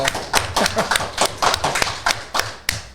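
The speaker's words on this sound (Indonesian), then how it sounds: "Kasih tepuk tangannya loh." A small audience claps in a podcast studio, with a steady run of sharp, close hand claps in an uneven rhythm, standing alone without talk.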